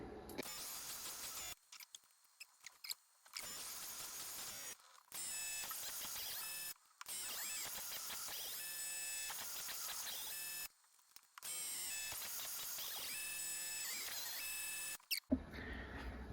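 Drilling long holes through a small metal carriage lock part on a mini lathe, a steady high whining drill with harmonic tones running in long stretches, broken by short silent pauses between passes.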